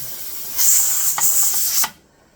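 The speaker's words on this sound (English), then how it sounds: "if you notice the constant steam, that's been going on for 10 minutes" Steam hisses steadily from the vent of a pressure canner loaded with home-canned pinto beans, a loud broadband rush with a few brief spurts before it cuts off abruptly near the end.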